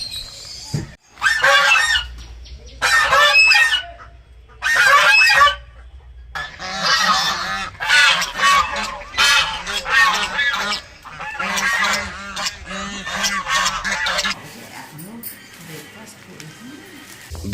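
Farmyard waterfowl honking loudly in repeated bursts on a farm in Bolpur that also keeps chickens and goats, the calls close by and overlapping with people talking.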